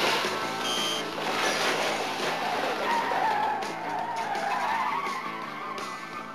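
Car tires spin and squeal in a continuous rising screech over the engine noise, loud and close for about six seconds.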